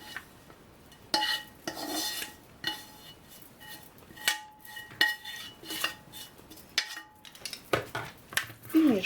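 Ingredients, including chives, being mixed in a separate bowl for a baked cheese pasta, with repeated close scraping and clinking of a utensil against the bowl in uneven strokes.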